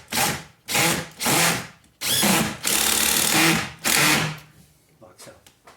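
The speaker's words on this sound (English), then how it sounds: "I'm going to screw it into the wood." A power drill drives screws into wood for a curved wooden gate, with several loud, close bursts of whirring motor and grinding wood separated by short pauses.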